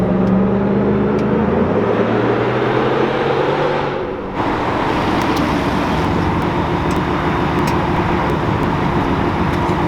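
A Dodge Hellcat widebody in sport mode roars loudly through a small tunnel, its deep engine note droning steadily. It dips briefly partway through, then resumes with a broad, reverberant road-and-exhaust rumble.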